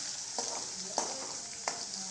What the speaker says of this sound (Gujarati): હવે આને આપણે થોડી વાર આમ ચમચાથી ફેરવશું